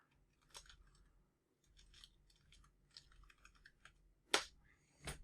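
A computer keyboard is typed on in scattered, quiet, uneven clicks, with a couple of louder sharp key strikes near the end and no talk.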